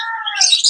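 A red-eye lovebird kept in a mini aviary gives short, loud, high-pitched chirps and squeaky twittering up close.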